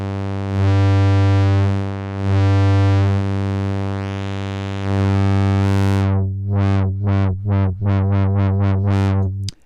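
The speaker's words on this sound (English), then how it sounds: "the mango low pass is cool because it also has a drive, which is a distortion" A buzzy, harmonically rich synth tone through a low-pass filter with drive distortion plays sustained notes with slow filter sweeps, then breaks into fast, chopped distorted stabs that rise and fall in pitch.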